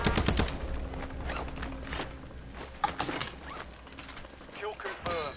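Automatic weapon fire in the video game Call of Duty Warzone: dense bursts of gunshots and mechanical clatter, loudest at the start and rattling on intermittently while game voices speak over it.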